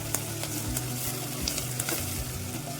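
Small and large onions sauté until brown in a pan for a Kerala-style mutton varutharacha curry, sizzling loudly and steadily with frequent clicks and scrapes from stirring and a low hum underneath.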